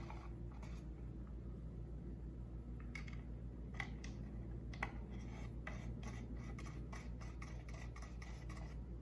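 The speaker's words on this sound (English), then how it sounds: "Tighten up the screws." Screws being hand-tightened on the front plate of a SenseCAP M1 unit, heard as quiet scratchy rasps and small clicks scattered over a low steady hum, with no talking.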